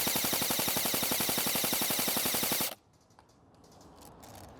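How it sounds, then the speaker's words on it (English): A Krytac Alpha CRB airsoft rifle fires a rapid full-auto burst of evenly spaced clacking shots, close and loud, then stops abruptly into quiet outdoor ambience. "So, let's grab the gun and shoot it again."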